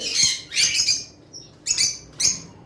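Lovebirds from a group of breeding pairs, including albinos, let out short, harsh squawks in about four close, loud bursts separated by brief pauses, with no talking.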